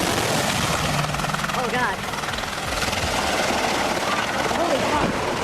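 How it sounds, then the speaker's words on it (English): US military helicopter in low-altitude flight training losing control and slamming into the dust, a loud steady rotor roar with rumbling impact noise, and a voice exclaiming over it. "sending this US military helicopter slamming into the dust"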